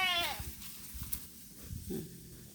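A thirsty goat out in a hot open field gives a short bleat at the start, then soft shuffling and faint scattered sounds nearby.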